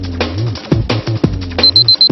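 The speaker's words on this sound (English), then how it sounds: "I'll turn on the watch's alarm" A wristwatch alarm beeps in a steady repeated high tone while the watch is whirled around overhead, heard over knocking and rustling handling noises close by.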